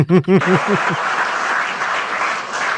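After a few words from a speaker, an audience at a political gathering with Jokowi breaks into clapping that holds as an even, moderately close patter to the end.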